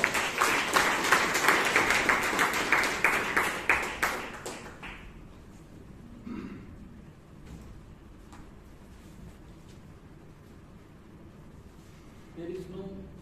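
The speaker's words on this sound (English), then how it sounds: "Round of applause." A Toastmasters meeting audience in Bangalore applauds a speaker coming on stage, brisk clapping for about four seconds that quickly dies away, followed by a quiet room with faint shuffles and small taps.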